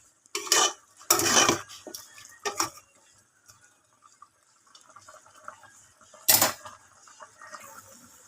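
Pork adobo with pork hock being stirred in a pot, a few loud bursts of metal utensil scraping and clanking against the pot separated by quiet gaps with faint simmering.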